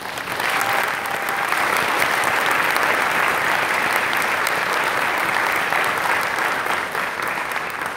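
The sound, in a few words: audience applause at a convention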